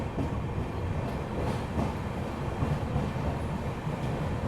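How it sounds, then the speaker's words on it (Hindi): A Rajdhani express train running on a loop line past a railway junction, heard as a steady, loud rolling rumble and rattle of carriages on track, continuous throughout with no talking. "ट्रेन लूप लाइन से न्यू अलीपुर द्वार जंक्शन रेलवे स्टेशन को स्किप कर रही है।"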